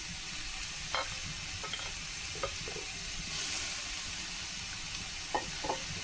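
Papaya and shrimp legs fry in a pan with turmeric and green chili, giving a steady soft sizzle under a few light scraping stirs of a spoon.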